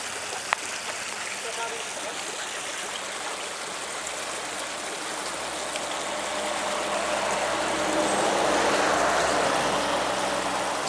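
Creek water rushes and babbles steadily nearby, a continuous bright wash of flowing water that swells slightly louder toward the end.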